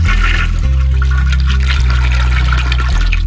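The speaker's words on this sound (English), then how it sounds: "You flush the toilet." A toilet flushes in the adventure game Ben Jordan: Paranormal Investigator, a loud, close rush of swirling water over a low game music drone, running steadily for a few seconds.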